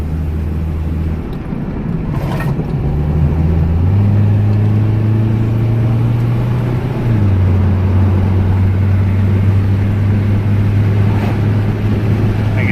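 Rebuilt Dodge Neon with a new rod and piston after hydro-locking, driving on a road: a loud engine drone that shifts pitch as the car changes gears and accelerates, continuous and close, without talk.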